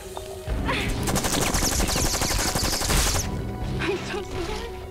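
Rapid bursts of gunfire from a voice-controlled video game as an alien is shot at, a loud dense volley lasting a few seconds followed by quieter game sounds.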